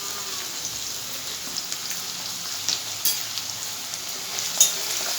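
Turmeric powder and salt fry in hot oil in a pan for kochu shak, giving a steady close sizzle with faint scattered crackles and a few small stirring clicks, with no voices.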